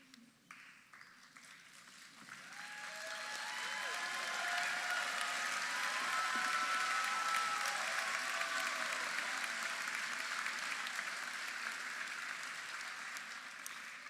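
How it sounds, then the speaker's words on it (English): Applause from a large audience at a medical school graduation ceremony builds gradually into a sustained, steady roar of clapping that holds for several seconds before slowly easing off. "They're clapping because they can't believe it."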